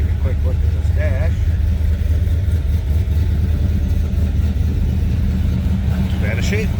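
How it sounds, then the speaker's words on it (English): A 1979 Chevrolet Camaro Z28 idles with a deep, throaty exhaust rumble, loud and steady throughout while someone talks over it. "Nice sounding car too. A little throaty exhaust to it."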